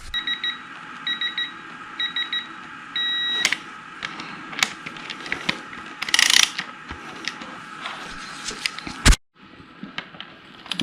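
A hand ratchet tightens the front wheel pinch bolts on a Beta 500 motorcycle: several short bursts of close, crisp ratchet clicking, then a few louder clanks and tool knocks, with no speech.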